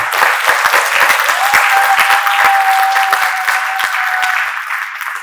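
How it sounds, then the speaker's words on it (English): Loud, sustained applause fills a hall from a seated audience at a foundation event in Connecticut, with dense continuous clapping that tapers slightly toward the end. "Ladies and gentlemen, round of applause,"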